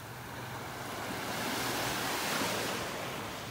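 Surf rolling onto the beach at North Naples, Florida on a warm morning, a steady broadband wash of breaking waves that swells gently and eases, with light wind and no voices.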